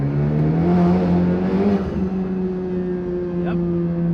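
A Honda Civic Type R FK8 with a big turbo engine making boost, pulling hard with a strong rising drone that eases off and settles to a steady hum, with a brief whistling chirp near the end.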